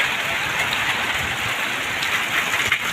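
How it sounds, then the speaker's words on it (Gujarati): Heavy rain in a windstorm pours steadily over farm fields in Patan, a dense, loud, continuous roar without pauses and with no voices. "કેટલો ભારે વરસાદ ચાલુ છે વાવાઝોડા સંગાત"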